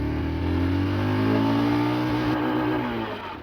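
A Royal Enfield Scram 440 motorcycle accelerates through first gear, its engine note rising steadily in pitch as it revs, loud and continuous, then easing off near the end, with no talking.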